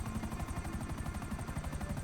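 Helicopter flying in GTA Online, a steady pulsing rotor chop with a rapid regular beat and constant engine drone, loud and close throughout with no talking.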